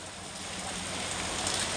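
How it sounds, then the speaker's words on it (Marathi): Rain falls steadily as a continuous broadband hiss that swells slightly louder toward the end, with no voices over it. "पाऊस पडतोय बघा"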